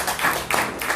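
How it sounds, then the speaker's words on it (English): An audience claps at the end of a talk, a short stretch of diffuse, steady clapping with a few swelling bursts and no clear single claps. "You can clap now."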